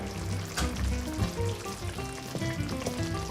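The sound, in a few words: stirring cheese into sauce in a pan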